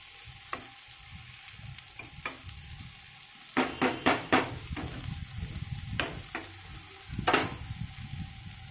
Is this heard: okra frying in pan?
yes